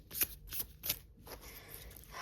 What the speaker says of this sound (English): first we're gonna shuffle and get you one.